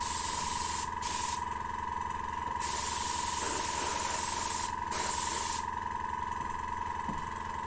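A hobby airbrush sprays paint onto a model waterfall diorama, a continuous close hiss that cuts out briefly a couple of times before resuming. A constant hum runs underneath and no one talks.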